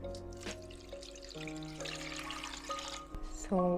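Water pours into a pot for Korean fish cake soup, a steady trickling stream with rising tones as the vessel fills, accompanied by faint kitchen clinks and ending in a louder splash.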